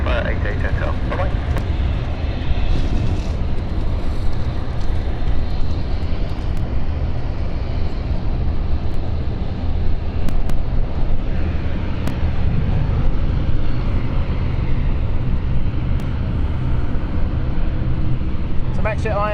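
A jet airliner roars steadily near London City Airport, a loud continuous engine rumble that holds for the whole stretch while someone talks over it.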